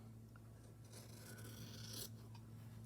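Large scissors cut through fabric for a stitched ugly-sweater Santa journal page, giving a soft, quiet rasping snip close by, with a brighter cutting burst near the end over a steady low hum.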